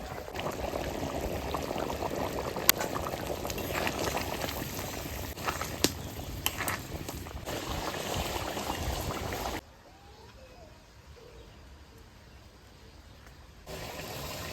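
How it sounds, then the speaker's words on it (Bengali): Curry with chicken stomach and taro bubbling in a pot, a continuous burbling boil that drops away near the end and then resumes quieter. "আমার তরকারিতে জাল উঠে গেছে"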